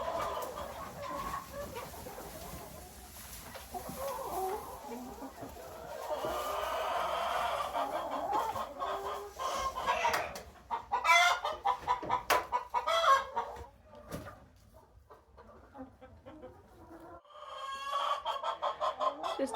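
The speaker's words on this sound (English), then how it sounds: "There are chickens in there." Chickens in a farm barn dig in the hay and cluck on and off, a nearby mix of soft murmurs and sharper calls with rustling between, and a burst of louder clucking later on.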